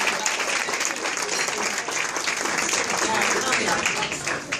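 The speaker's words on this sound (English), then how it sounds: "Give him a round of applause." A crowd claps for a pianist named Benjamin Brown at a piano recital, a dense, steady round of applause sustained evenly throughout.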